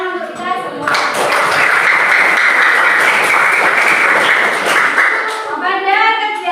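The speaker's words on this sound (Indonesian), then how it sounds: "Kasih tepuk tangan untuk kita semua." Students in a school session clap together in a loud, dense burst lasting about four seconds, with a speaking voice just before and after.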